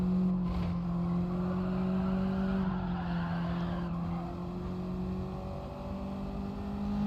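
Race car engines drone steadily in Gran Turismo 7 as a bunched pack fights understeer and oversteer through corners, with a sustained engine tone and faint tire squeal, continuous and fairly loud, without talk.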